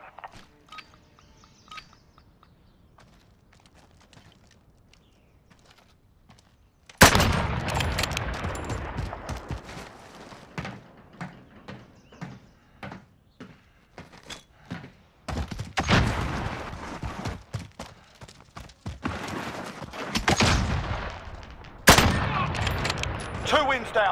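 Gunfire in a shooter video game: several loud bursts of automatic fire and single shots, irregularly spaced and growing denser in the second half, after a quiet opening.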